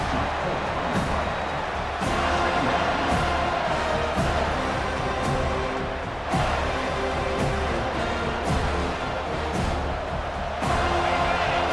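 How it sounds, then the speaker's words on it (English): Stadium crowd in EA Sports College Football 25 roars in a sustained, dense wash during a rivalry game, swelling and dipping with a few sharp breaks while faint commentary voices sit underneath. "The roar of the crowd trying to fuel this defense to keep them pinned in their own end."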